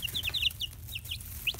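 Baby chicks peep in rapid, high, repeated chirps close by while pecking at chick grit mixed into their food, over a steady low background hum.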